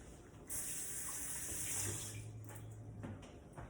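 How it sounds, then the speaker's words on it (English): A kitchen tap runs steadily while hands are rinsed under it, a continuous close splash of water that starts abruptly and carries on alone with no talk. "Let me rinse my hands."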